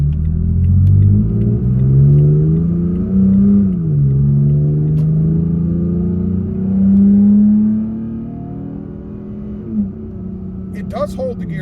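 Toyota Tacoma pickup accelerating while being driven, its engine and exhaust droning loudly from inside the cab, revs climbing and dipping through gear changes before easing off, with a few faint clicks near the end.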